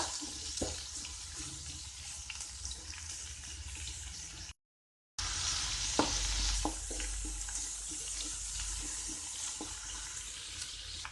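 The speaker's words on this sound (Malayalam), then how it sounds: "ഇനി ഇതൊന്ന് നല്ലപോലെ വെളിച്ചെണ്ണയിൽ കിടന്നൊന്ന് മുരിയിച്ചെടുക്കുക" Onions sauté in coconut oil for a squid thoran, giving a steady close hiss and sizzle with occasional stirring scrapes and taps, briefly cutting out partway through.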